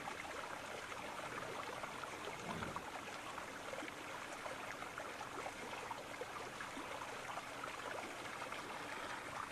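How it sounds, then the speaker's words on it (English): A river stream flows steadily as a broad, even rush of water, constant and moderately distant with no voices over it. "as you concentrate on the flowing of the river"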